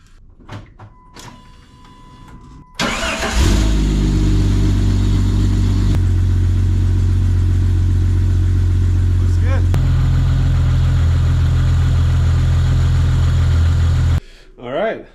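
A Jeep ZJ, fresh from a tune-up and a new alternator, cranks and catches after a few quiet seconds with a brief voice, then idles loud and steady close by before shutting off near the end.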